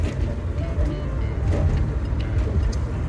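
A 301 turbo Pontiac Trans Am under way, its engine a low steady rumble heard from inside the car, droning continuously with mild rises and road noise.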